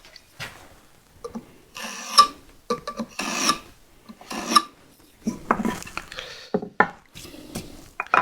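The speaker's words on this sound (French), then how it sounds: "je prends un tranchet et je vais venir faire un trait de chaque côté" A marking knife scores lines into wood in short, scratchy strokes, close and quiet, interspersed with light taps and handling sounds of the tool and workpiece.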